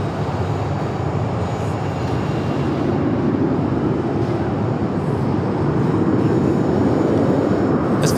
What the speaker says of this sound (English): American Airlines flight 1922. It's a 12-year-old 737-800.